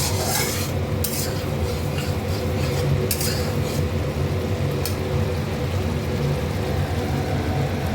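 Mustard seeds being stirred in a cooking pan, a steady scraping and rustling that runs throughout at close range, with a few brighter clinks of utensil on metal and no talk over it.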